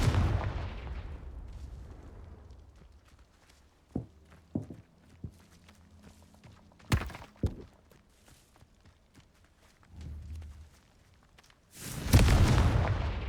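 Scattered spell blasts from Confringo and Depulso casts in a Hogwarts game on PlayStation 4, sharp booming hits spaced over several seconds with quieter footsteps between, ending in a louder rumbling burst.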